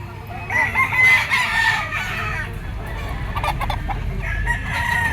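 A yellow-legged Lemon-bloodline stag rooster crows loudly and close by, with clucking fowl and farmyard noise behind it.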